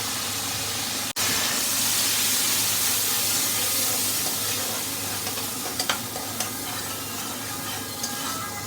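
Spices for a Malabar spinach and shrimp curry fry in a pan, giving a loud, steady sizzle and hiss with a few clinks and scrapes of stirring and one sharp knock early on.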